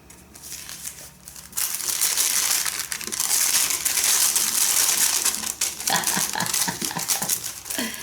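Crinkly paper pages of a handmade vintage-garden journal being flipped and handled, a loud sustained crackling and crumpling that starts abruptly and runs on, with sharper rustles and flicks toward the end.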